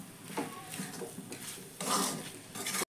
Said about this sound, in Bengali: আদা বাটা দিয়েও আমি একইভাবে নেড়ে যাব যতক্ষণ না নারকেল মিষ্টিটা ঠিকঠাকভাবে পাক হচ্ছে।